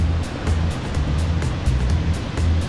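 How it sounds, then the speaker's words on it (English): Ocean surf rolls in along a beach in Eastern Samar, Philippines, a steady rushing wash with repeated soft breaking swells, no voices. "watch the waves"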